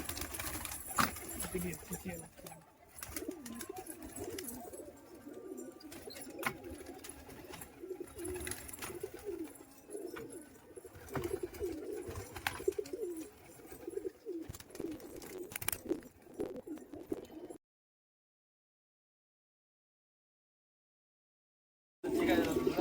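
Murshidabad Giribaj pigeons, a flock released together, coo in soft low repeated calls with scattered wing flutters, fairly close, for most of the stretch; a few voices speak, then a long silence, then a brief burst of sound returns.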